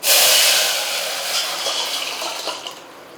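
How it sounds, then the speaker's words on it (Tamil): Dissolved rasam poured into a hot pan of popped mustard seeds, a bright rushing sizzle that bursts loudly at first then settles into a fading hiss with small crackles. "இப்போ நம்ம கரைச்ச ரசத்தை சேர்த்துக்கலாம்."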